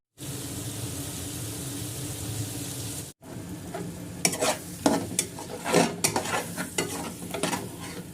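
A utensil scrapes and stirs masala for a fish curry sizzling in a hot pan, with irregular clinks and scrapes over a steady frying hiss.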